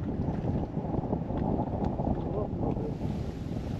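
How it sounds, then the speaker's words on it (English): Strong wind buffets the microphone on a fishing boat out on the water, a steady low roaring rumble that fills the whole stretch. "Lee, this wind is pumping, man"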